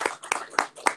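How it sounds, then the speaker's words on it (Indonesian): Applause for Pak Made at an Indonesian book discussion event, a few sharp claps in a quick uneven rhythm, close and fairly loud, with no talking. "Tepuk tangan buat Pak Made"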